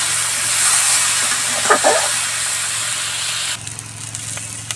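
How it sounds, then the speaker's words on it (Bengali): Potatoes and vegetables sautéing in a pan for a Bengali dish produce a continuous loud hissing sizzle, which thins and drops slightly in level near the end. "এই যে ভালো মতন কষে নিচ্ছি এটাকে আলু মতো ভালো মতন কষে নিচ্ছি"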